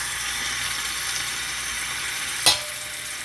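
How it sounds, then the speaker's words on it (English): Pieces of fish frying in a small pot, a steady close sizzle of hot oil with a brief sharp crackle near the end. "And I basically want to fry my fish."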